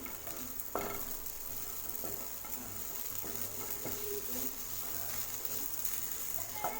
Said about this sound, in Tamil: ஜவ்வரிசி பாருங்கள் நெய்யில் நல்லா மிக்ஸ் பண்ணிவிட்டு இப்போ ஃப்ளேம் வந்து மீடியம் ஃப்ளேமில் வச்சு நல்லா நெய்யிலேயே வறுத்துக்கலாம்